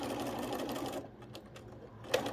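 A sewing machine stitches a quarter-inch seam on a pieced quilt block with a rapid, steady whirring rattle, stops briefly, then resumes in short bursts as it reverses, all close and fairly quiet.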